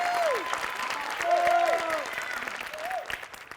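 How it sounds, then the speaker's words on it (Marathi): An audience at the Marathi comedy show Maharashtrachi HasyaJatra, during an Independence Day program, applauds loudly and steadily for performer Shyam while a voice speaks over the clapping. "श्यामसाठी एकदा जोरदार टाळ्या."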